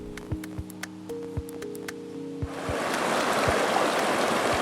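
Water flowing along Millington Creek rises to a steady, full rush partway through, after a stretch of clicks and faint tones.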